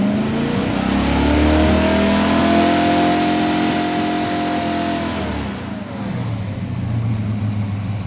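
A Ford Ranchero engine revs up loudly and holds high, then drops back toward a rough, fast idle in 25-degree cold, heard close by with no talking.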